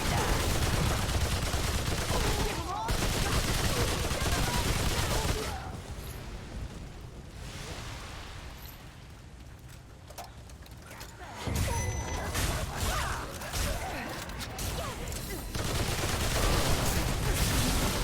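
Gunfire in the video game Remnant 2, bursts of rapid shots and booming blasts that fill the clip loudly, drop to a quieter stretch in the middle, then return at full intensity.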